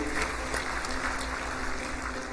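An audience at an official gathering applauds, a dense, steady patter of many hands clapping at moderate distance, sustained throughout with no speech over it.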